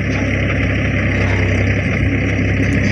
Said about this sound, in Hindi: अभी किसान भाई घुमा रहे हैं ट्रैक्टर को